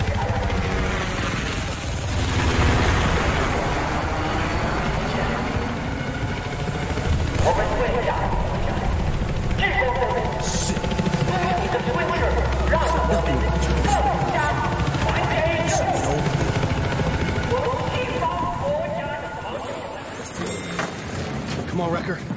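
A military helicopter in Battlefield 4 drones with a continuous rotor roar throughout, loud and near, layered with gunfire, mechanical noise and voices talking over it.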